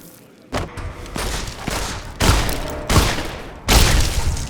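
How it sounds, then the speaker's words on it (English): Shotgun blasts in Fallout New Vegas: five punchy booming shots at uneven intervals, each with a short rumbling tail, fairly close and loud with no talk over them. "that shotgun sounds really cool"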